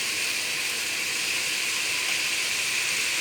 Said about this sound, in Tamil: இப்போ நல்லா வதக்கிக்கோங்க.